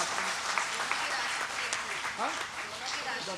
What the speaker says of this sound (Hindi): आइए सब मिलकर एक बार तालियां बजाएं, बुलाएं डॉक्टर रमाकांत।